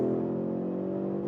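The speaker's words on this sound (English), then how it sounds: "And you hear a lot of the engine" An Audi RS3 engine hums loudly and steadily at speed on a track, a close, continuous droning tone with no talk over it.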